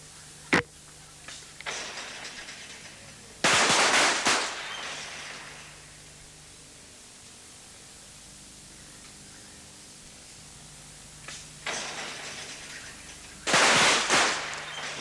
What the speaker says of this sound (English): he's coming up to shoot his first shot now